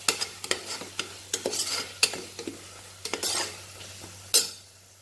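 Masala with chili powder sautéed in a pan: soft sizzling under quick, irregular clinks and scrapes of a spoon against metal, close up, ending with one sharper knock before fading quieter; no talking.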